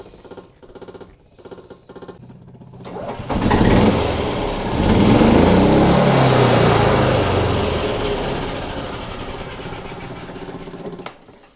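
Yamaha golf cart engine cranks and starts, then runs loudly with a rough, rattling drone that slowly fades before cutting off.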